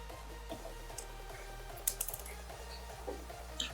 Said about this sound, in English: take our T6/T5 and go ahead and loosen up these screws